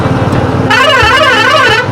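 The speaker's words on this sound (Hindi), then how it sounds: "भोपू का आवाज़ पॉ पॉ पॉ पॉ करते रहता है।" Vehicle horns honk repeatedly in heavy road traffic on a ride from Puri to Kolkata, a loud sustained wavering blare over rumbling engine noise, close by, with no talk.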